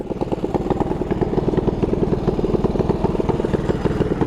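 A 212 Predator mini bike engine putters at a rapid, steady idle with a rattly, uneven chug, close and continuous with no talking.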